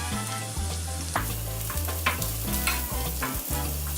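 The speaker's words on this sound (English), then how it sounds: "sauteing the onions and the garlic together takes the bite out of all that" Onions and garlic sauteing in hot oil give a constant close sizzle and crackle, broken by repeated scraping stirs and utensil knocks against the pan roughly every half second.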